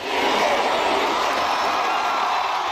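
A massive crowd of fans cheers at the Jananayagan audio launch in Malaysia, Vijay's film event, a loud and continuous roar of voices and whoops that stays steady without pause.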